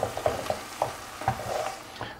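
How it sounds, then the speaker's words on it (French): Tomato sauce simmering in a pan is stirred with soft, irregular scrapes and gentle bubbling, a steady close-up kitchen sound with no voices. "on laisse mijoter encore un petit peu"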